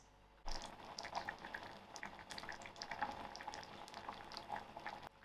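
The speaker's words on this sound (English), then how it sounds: "We'll allow this to come to a simmer for 5 minutes." Fruit cake mixture simmering on a stove, a steady close bubbling and gentle popping that starts abruptly and continues evenly throughout.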